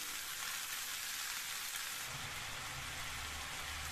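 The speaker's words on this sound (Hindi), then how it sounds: "और ये कद्दू भुन चुका है।" Pumpkin pieces fry in a pan over a high flame, making a dense, constant crackling sizzle like rain on a surface, with a low bubbling rumble rising near the end and no voices.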